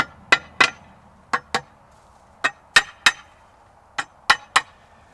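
A hammer taps wall anchors into holes drilled in a masonry wall, giving about ten sharp, separate knocks in small irregular clusters. Each knock is close and distinct, with quiet between them.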